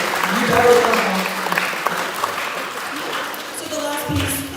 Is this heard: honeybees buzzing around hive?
no